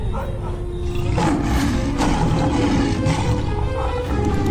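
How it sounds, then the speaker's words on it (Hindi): A cartoon lion roars loudly in a dense jungle scene, a sustained rumbling growl that swells and holds for several seconds over a thick, noisy background. "ये तो शेर की आवाज है।"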